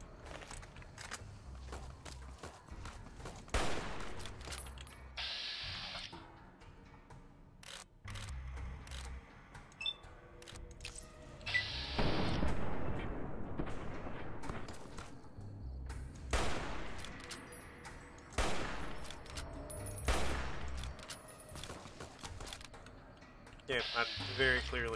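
Gunfire in Fallout: New Vegas, scattered loud shots and bursts broken up by quieter gaps, with someone talking over parts of it.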